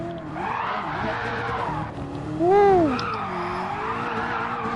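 Tires squeal in a brief rising-falling skid as a game car brakes hard, standing out over a steady engine drone and racing game ambience.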